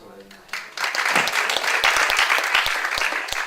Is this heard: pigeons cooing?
no